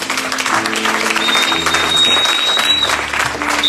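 A church congregation breaks into loud, sustained applause to acclaim the Lord during a French-language sermon, with dense clapping filling the whole stretch.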